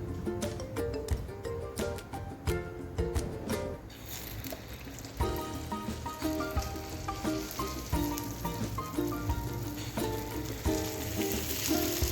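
Jackfruit unniyappam frying in hot oil, giving a continuous close crackling sizzle at low level throughout, joined partway by brighter spitting and a few soft taps, with no one talking.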